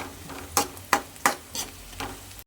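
Chicken and onions frying on a low flame, with a soft steady sizzle broken by four or five rhythmic scraping stirs of a spoon in the pan, close and clear.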